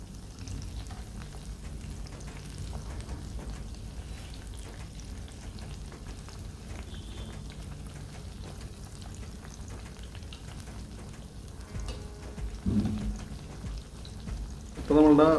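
Banana fritters (pazham pori) frying in hot oil, a soft continuous crackle and bubbling held low throughout, with a couple of louder clunks near the end as the fritters are turned.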